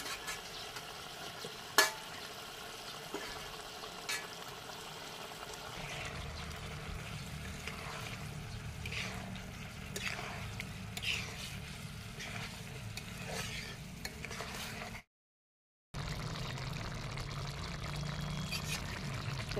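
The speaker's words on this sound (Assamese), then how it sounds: "খুব ধুনীয়াকৈ উতলি আছে।" A pot of curry with bitter gourd, boiled eggs and potatoes bubbles and simmers for about twenty seconds, a steady close burble with faint stirring ticks and a short silent gap near the end.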